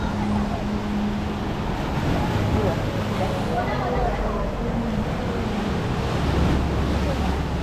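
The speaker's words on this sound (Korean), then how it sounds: "근데 파도가 좀 세다 세기는 그치?" Strong sea waves surge on a beach on Jeju with a constant roar of surf and heavy wind buffeting the microphone. A low rumble stays steady throughout with no clear break.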